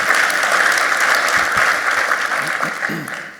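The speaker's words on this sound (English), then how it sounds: "let's give them a round of applause" An audience at an economic outlook event claps steadily, a dense, sustained wash of applause that gradually thins and fades, with a voice faintly emerging near the end.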